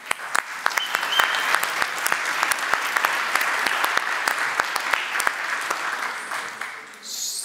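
An audience in an academic conference room claps at a hackathon closing and award ceremony, with a sustained round of sharp, distinct hand claps fading slightly at the end.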